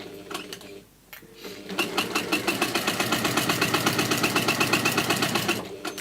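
A sewing machine stitches a personalised purse, starting with a brief whir, pausing, then settling into a fast, steady mechanical rattle for several seconds before slowing at the end.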